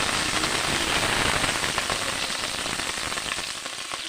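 Cashews fry in hot ghee in a pan while cooking a winter vegetable khichuri, giving a steady, close crackling sizzle that runs without a break and fades a little toward the end.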